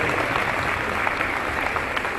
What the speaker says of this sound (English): you deserve this round of applause. Give it up for the crew.